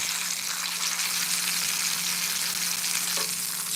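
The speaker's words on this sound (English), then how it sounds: "The reason we're pressing this down is because we want to get a nice and even sear" Steak sears in a hot pan as it is pressed down flat, a loud, dense, steady sizzle with a faint scrape near the end, heard up close with no voices.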